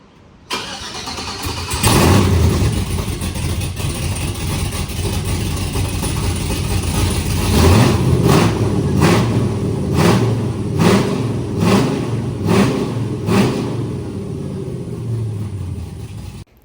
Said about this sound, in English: the truck sounds really good